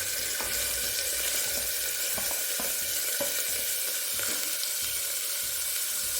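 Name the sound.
onions sizzling while frying in a pan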